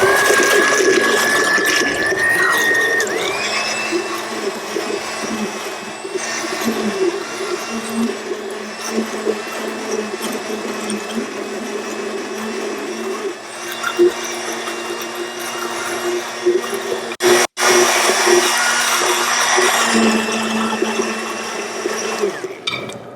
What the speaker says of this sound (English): we're going to go ahead with our immersion blender and just whip this up a little